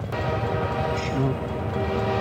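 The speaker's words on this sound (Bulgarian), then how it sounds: "Това е мотриса на БДЖ." A BDZ (Bulgarian State Railways) railcar in a video game rumbles along with a steady, loud mechanical drone and a faint horn-like tone, while people talk over it throughout.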